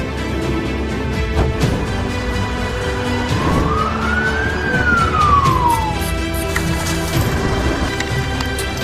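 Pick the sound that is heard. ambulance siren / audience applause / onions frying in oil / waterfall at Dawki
ambulance siren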